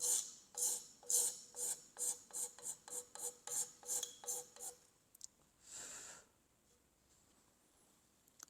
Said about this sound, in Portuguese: Vou raspilhar esse topo aqui, para entender qual é a orientação do corte dela